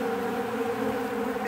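A dense, steady buzz of many bees hums continuously at close range, with no voices.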